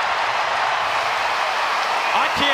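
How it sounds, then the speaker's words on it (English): Basketball arena crowd at a Kentucky vs Georgia game roaring without a break, a dense, loud wash of cheering and applause filling the space, with a commentator's voice laid over it. "This crowd is so frenzied over the performance by Ivisic."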